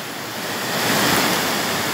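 The waterfall at Riacho do Mel in rural Olivença, Alagoas, roars as a loud, steady wash of rushing water that swells slightly midway and never pauses, with no talk.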